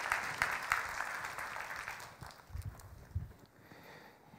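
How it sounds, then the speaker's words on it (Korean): A church congregation claps during a Sunday worship service, a diffuse, moderately loud patter of hands that fades out, with a few heavier knocks or footsteps near the end. "우리 두 분 집사님들에게 박수 부탁드리겠습니다"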